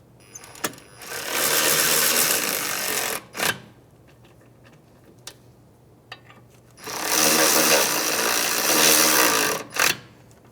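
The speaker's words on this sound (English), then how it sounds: "We're going to snug these bolts up," A power ratchet or impact tool snugging the caliper bracket bolts on a 2003-2011 Honda Element, two sustained loud whirring bursts of a few seconds each separated by quieter clicks and clanks, close with no talk.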